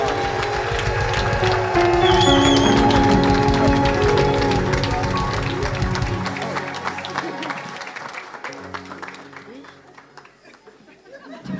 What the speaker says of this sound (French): Acclamez encore une fois de plus.